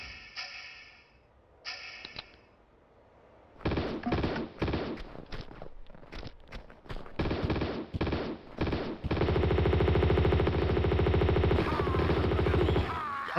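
Weapon fire in the Tomb Raider II video game from a grenade launcher: a few sharp isolated shots, then rapid bursts, and finally a loud sustained stream of firing near the end.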